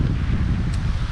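Strong wind gusting across the microphone while fishing outdoors in Florida, a heavy, rumbling low buffeting that stays loud and constant for the whole moment, with no talking.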